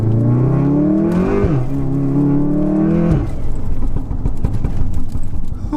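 A tuned 600bhp Volkswagen Golf R engine revs up high, drops, climbs again, then settles into a rough, crackling idle with popping exhaust, close by.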